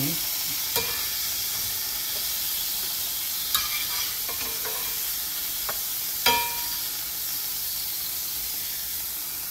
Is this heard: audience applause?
no